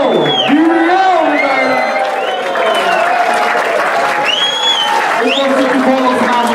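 A live concert crowd at de Lantaarn in Hellendoorn applauds and cheers loudly for the band, with steady dense clapping, whoops and shouts throughout, and a voice calling out over the noise.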